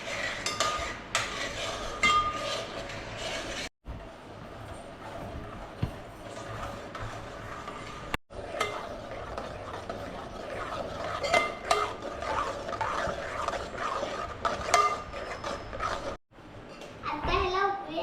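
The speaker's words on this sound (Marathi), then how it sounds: "आता आपण हलवून घेऊया. त्याला उकळी येस तोपर्यंत आपण हलवत राहूया." Mango pulp mixture stirred in a pan for mango leather, with a spoon scraping and clinking against the metal in a steady, continuous rhythm, up close. Faint voices sound in the background.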